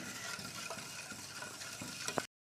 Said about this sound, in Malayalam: നമുക്കൊരു വിസ്ക് വെച്ച് നല്ലതുപോലെ മിക്സ് ചെയ്ത് എടുക്കുക